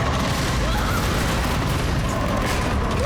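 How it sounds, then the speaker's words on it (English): Gunfire in the video game Resident Evil Requiem comes as a dense, loud wall of booming shots and blasts, filling the whole stretch without a pause. "Okay, I'm gonna shoot."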